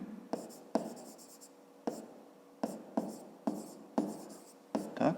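A pen scratches across paper during a fifth-grade math exercise, in short strokes of about eight to nine separate bursts, each starting sharply and then fading. It is close and quiet, with no speech.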